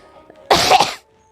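One short, sharp cough close to the microphone, a single harsh burst set against near silence.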